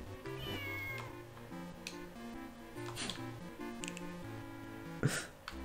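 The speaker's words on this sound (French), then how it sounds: "Miaou, il a dit miaou" In the video game Zelda: Minish Cap, a cat meows a few times over looping game music and chiptune effects, the meows clear and fairly loud above the background.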